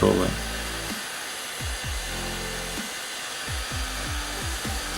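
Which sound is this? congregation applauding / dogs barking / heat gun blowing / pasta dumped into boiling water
heat gun blowing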